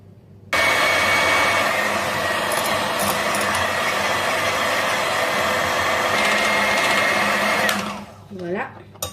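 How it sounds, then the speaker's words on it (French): Electric hand mixer whisking mascarpone cream in a bowl, a steady loud motor whir running unbroken for about seven seconds before cutting off, followed by a brief fading whine. "Et je vais continuer à fouetter."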